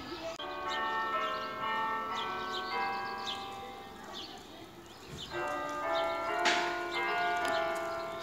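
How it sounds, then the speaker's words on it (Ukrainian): A school bell rings on the morning before lessons start, a long sustained metallic ringing with steady harmonic tones running throughout, heard from a short distance with faint background activity. "дзвоник вже продзвонив, Давіда почався урок"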